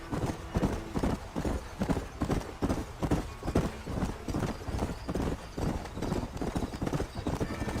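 Steady clip-clop of horse hooves at a riding gait in the Red Dead Redemption video game, rhythmic and continuous, close and moderately loud with some ambient game sound behind.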